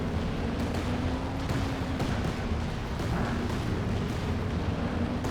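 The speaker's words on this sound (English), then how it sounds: "Land mattress barrage radiating once again." Land Mattress rocket artillery barrage in the Company of Heroes 2 strategy game: a dense, continuous rumble of rocket launches and explosions, steady and loud throughout with no talk.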